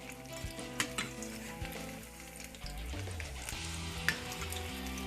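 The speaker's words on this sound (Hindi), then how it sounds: "तो थोड़ा दाब के अच्छी तरह से पकाएंगे।" Layered Bihari taruaa fries in hot oil in a pan over medium heat, a steady close sizzle with occasional scraping and stirring clinks from a utensil, no voices.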